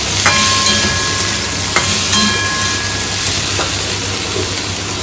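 Potatoes and tomatoes with turmeric frying in a pan: a steady, fairly loud sizzle runs throughout, with a few faint clinks from stirring.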